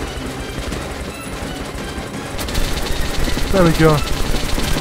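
Gunfire in the video game Metro: Last Light Redux crackles in rapid bursts that grow denser midway, alongside a player's brief voice.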